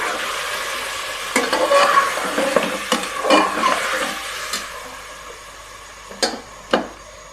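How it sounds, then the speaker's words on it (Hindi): Freshly ground ginger garlic paste sizzles and fries in a pan for mutton namkeen gosht, with a spoon stirring and scraping in irregular bursts over a soft, steady frying hiss. "इसको डाल के ना अच्छे से 10 से 15 मिनट तकरीबन हमने अच्छे से भूनना है इसको।"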